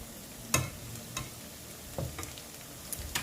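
Pork sizzles quietly in a pan while being fried for fried pork larb, with a few sharp stirring scrapes and clatters standing out over a low, steady frying hiss.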